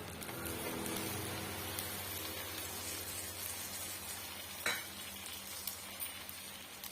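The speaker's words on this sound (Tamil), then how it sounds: "சேர்த்துட்டு நல்லா வந்து வறுத்து விட்டுக்கலாங்க" Garlic and curry leaves frying in hot oil for a roadside spicy puffed-rice snack, giving a steady, dense sizzle that holds throughout. A few brief stirring knocks come near the end, and there is no talking.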